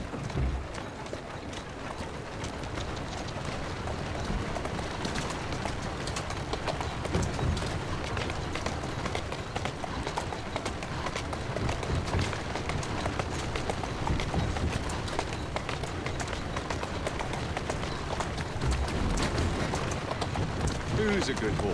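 A horse in Assassin's Creed Syndicate trots along, its hooves clip-clopping in a steady, continuous rhythm close by over a dense wash of background noise.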